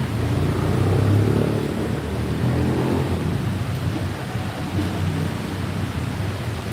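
Heavy morning rain in Bangkok, near the MRT station, makes a dense, steady roar with a deep low rumble that swells early and then holds even and unbroken.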